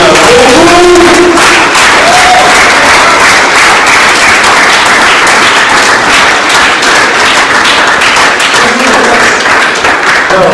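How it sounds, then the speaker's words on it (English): Conference audience applause, loud and continuous from start to end, a dense crowd of clapping hands with a few cheers mixed in. "Please clap for Miss Selena"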